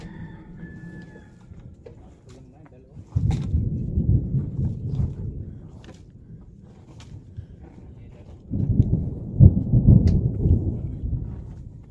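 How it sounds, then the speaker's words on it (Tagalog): Deep rumbling thunder rolls through steady rain, swelling louder in the middle and again near the end, with a rooster faintly audible early on. "Malakas ang kulog."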